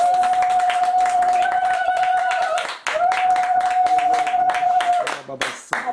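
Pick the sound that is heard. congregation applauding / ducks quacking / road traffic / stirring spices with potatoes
congregation applauding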